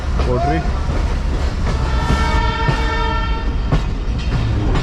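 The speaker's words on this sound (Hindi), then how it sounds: "कोटरी जंक्शन से निकलने के बाद पहला स्टॉप सिंध यूनिवर्सिटी जामशोरो और सुबह के 9:30 पे ट्रेन हमारी पहुंच चुकी है।" The Mohenjo-Daro passenger train runs on rails near Sind University Jamshoro, with a steady, loud rolling rumble and clatter and a brief tonal horn-like whine, while people talk over it.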